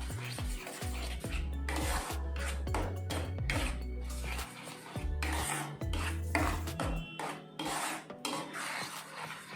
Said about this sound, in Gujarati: હવે આપણે આને બિલકુલ મિક્સ કરી દઈશું.